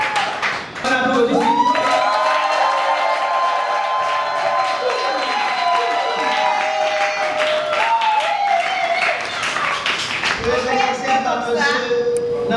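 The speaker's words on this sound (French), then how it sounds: "On applaudit." Wedding guests applaud and cheer during a French-language ceremony right after the vows, a dense sustained wash of clapping with voices and shouts mixed in, loud and continuous throughout.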